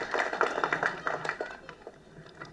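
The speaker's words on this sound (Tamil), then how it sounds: "ஸோ அதுக்கு ஒரு மிகப்பெரிய கைத்தட்டல் இளையராஜா அவர்கள்." An audience at an audio launch event applauds Ilaiyaraaja, with brisk clapping that is strongest at first and then thins and fades over a couple of seconds.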